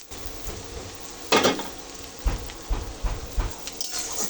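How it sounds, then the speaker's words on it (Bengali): Onions fry in a pan for a dried fish curry, a steady close sizzle broken by a few louder bursts and scraping stirs as the pieces are moved around, with no one speaking. "পেঁয়াজটা একটু ভেজে নেবো"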